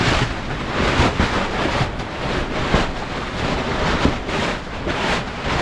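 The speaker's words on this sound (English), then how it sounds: "Boy, this wind is pretty serious." Strong wind blowing outdoors near an off-grid tiny house, a loud, continuous roar buffeting the microphone with rushing gusts that swell and ease throughout.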